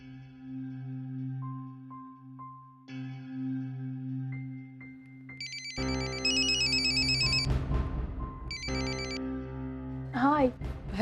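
A telephone bell rings in a household during wedding preparations, with repeated ringtone bursts and melodic tones over background music, while people speak nearby.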